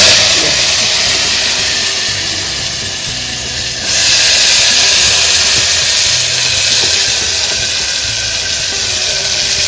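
A steady, loud hiss of eggplant frying in hot oil with garlic, with a sharp surge in the sizzle partway through as the eggplant goes into the pan.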